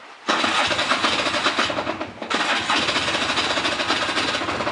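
A Polaris 400L ATV engine catches and fires up abruptly after a brief quiet moment, then runs loud and steady close by, with a short dip midway before settling into a rough, continuous idle without any throttle.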